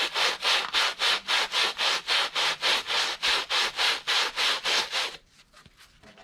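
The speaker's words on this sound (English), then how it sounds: "And then I just hand sand it off." Hand sanding a small wooden container, a steady run of about fifteen even back-and-forth rasping strokes, close and loud, stopping abruptly near the end with only faint handling noise after.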